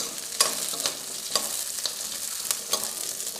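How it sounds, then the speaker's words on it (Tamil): Small shallots frying in hot oil for a mutton curry, a steady soft sizzle with several sharper stirring scrapes at irregular intervals, close and moderately quiet with no voices. "200 கிராம் சின்ன வெங்காயம் எடுத்துருக்கேன், அதை சேர்த்துக்குவோம்."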